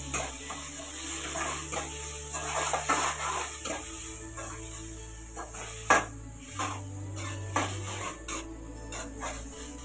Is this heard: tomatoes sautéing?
yes